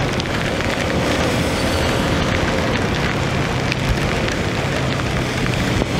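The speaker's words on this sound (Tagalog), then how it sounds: "Umuulan." Steady, dense rain hissing on a surface while camping, a loud continuous downpour with no voices and no breaks.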